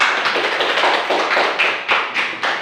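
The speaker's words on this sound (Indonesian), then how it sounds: "tepuk tangan" A class of students clap their hands together, a dense, steady patter of many hands with a few louder surges, close and continuous, with no talking.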